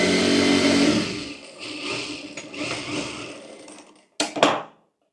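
Sewing machine stitching a hook strip onto a blouse, a steady mechanical whir running about four seconds, easing off, then two short bursts of stitching before silence.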